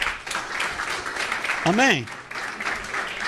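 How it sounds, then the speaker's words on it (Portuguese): Church congregation at a communion service applauds, a dense wash of clapping throughout with a voice speaking briefly over it near the middle. "Aleluia, aplaudo a Jesus."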